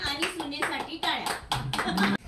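Guests clap for a father-in-law and daughter-in-law during a Marathi housewarming and wedding ritual, several short bursts of hand claps mixed with lively talking and children's voices nearby.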